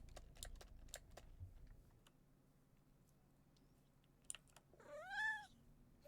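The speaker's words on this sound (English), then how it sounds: "Are you just a poor little kitty cat who's sitting on my desk?" Computer keyboard typing taps out a steady patter of clicks, then a pause, a few more keystrokes and finally a single drawn-out, rising-and-falling meow from a pet cat sitting on the desk, close and clear.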